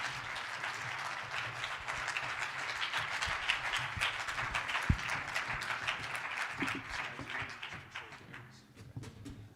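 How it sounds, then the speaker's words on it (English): Audience applause welcoming Don and Alexander from Integrate to the stage at The Greater Reset event, a sustained crowd of hands clapping in a dense rattle that fades toward the end. "Let's give them a big round of applause."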